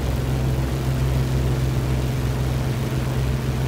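Twin engines of an XF11 aircraft in a flight sim video game, run up to full throttle for takeoff: a steady, loud propeller-engine drone with a strong low hum that holds unbroken throughout, no voices.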